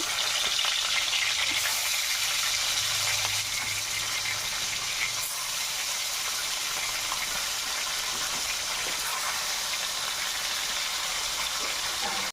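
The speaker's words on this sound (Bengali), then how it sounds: "তেলটা গরম হয়ে গেছে, মাছগুলো ভেজে নেব" Bhangon fish fries in hot oil in a kadai, a loud, continuous crackling sizzle that holds steady throughout, close up with no voices.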